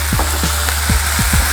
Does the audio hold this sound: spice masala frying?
yes